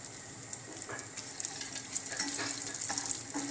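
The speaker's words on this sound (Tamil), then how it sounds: "இப்போ நம்ம முந்திரியும் திராட்சையும் வறுத்துக்கிறோம்" Cashews and raisins frying in a pan, a soft, steady hiss of hot oil with faint crackles and occasional light stirring scrapes, fairly quiet and close, no talking.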